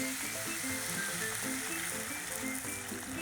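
Gochujang pork stew with chili powder, pork fat and cooking oil fries in a pot, giving a loud, steady close-up sizzle with constant fine spattering and no voices.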